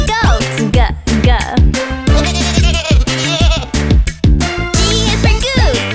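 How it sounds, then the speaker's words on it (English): A goat bleating: loud, close, wavering cries repeated in quick succession, one after another, with no talk. "G is for goat."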